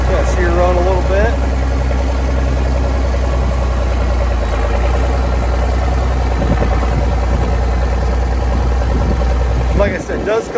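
A 1982 International 5088 tractor with duals runs at a steady, loud idle close by, its engine rumble continuous, with a voice heard briefly at the start and near the end.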